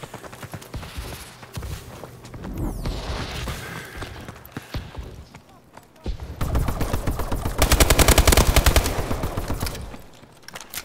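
Rapid automatic gunfire from a first-person shooter video game, dense bursts and fusillades, loud and continuous with heavier volleys toward the end, faint speech underneath.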